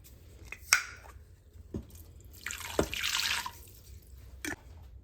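Bone broth pours and splashes into a baking dish with French onion soup, in short liquid bursts and drips mixed with a few sharp clinks, close and moderately loud, with no talking.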